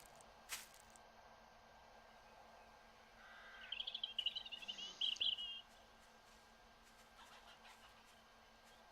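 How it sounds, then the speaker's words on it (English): A chicken clucks in the survival video game 7 Days to Die: a short run of pulsed clucks in the middle, fairly faint over quiet in-game ambience, with no talking. "I hear a chicken, for sure."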